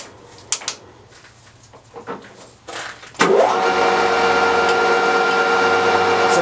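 A Smithy MI-1440L lathe on 110V cuts metal at a doubled feed of about 5.6 thou per rev, starting after a few clunks and clicks and then settling into a loud, steady, continuous whir that runs to the end.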